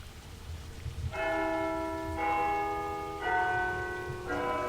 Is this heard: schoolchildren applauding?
no